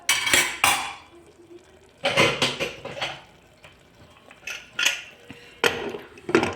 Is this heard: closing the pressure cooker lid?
yes